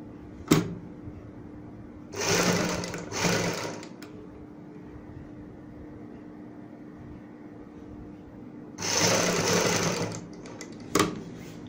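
A sewing machine stitches a strip onto a neck design in two short bursts of close, whirring stitching, separated by quiet gaps and a few sharp clicks, with no talking.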